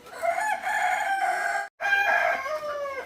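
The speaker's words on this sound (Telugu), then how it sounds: "ఇంకొక కోడి ఇక్కడ గుడ్ల పైన కూర్చోయింది" A rooster crows loudly and close by in two long calls, with a short break between them.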